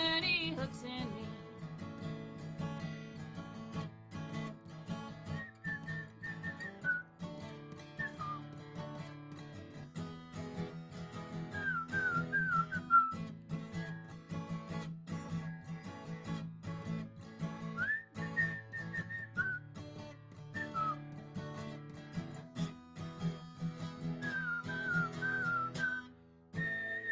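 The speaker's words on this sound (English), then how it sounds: "I personally really love the whistling" Melodic whistling carries through a song, recurring in short phrases over steady instrumental backing with no talking.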